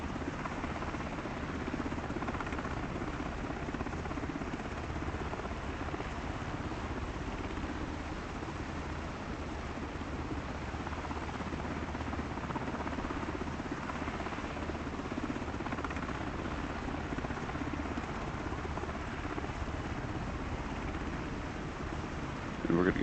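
A helicopter in flight between airfields gives a steady, unbroken rotor and engine drone that stays at an even level from start to finish.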